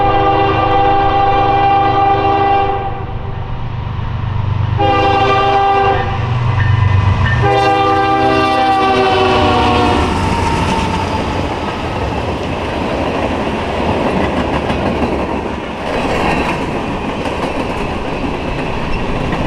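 Norfolk Southern AC44 locomotive passing on a CN line, loud and close, with a sustained multi-note horn blast followed by heavy engine rumble and wheel noise as the train goes by.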